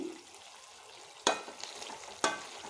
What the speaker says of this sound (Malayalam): മൂത്ത് വരുന്നത് വരെ നന്നായിട്ടിങ്ങനെ ഇളകി കൊടുക്കണം